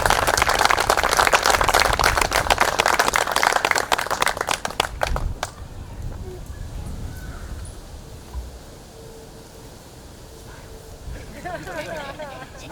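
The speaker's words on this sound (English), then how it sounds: "Can we give Ms. Pellini and our 4th graders a tremendous round of applause?" An outdoor crowd at a school steel beam signing ceremony claps loudly for about five seconds, then the clapping fades into murmuring chatter and distant crow caws.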